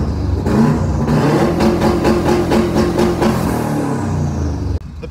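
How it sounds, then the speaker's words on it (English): A 2003 Subaru WRX wagon engine with its electric exhaust cutout open gives a loud, steady throaty rumble with pulsing revs for about five seconds, then drops abruptly near the end. "I welded in an electric cutout. Now, this is what I like to refer to as party mode, because it gets really loud and makes all sorts of cool noises."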